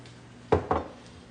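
A utensil knocks twice against a medium saucepan on the stove as ingredients are combined over medium heat: two quick, close metallic clanks about a fifth of a second apart, then quiet.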